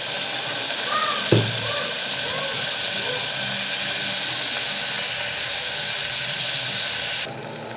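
Onions, coriander and green chilli sauté in a pan, giving a steady close hiss and sizzle with a brief clatter early on.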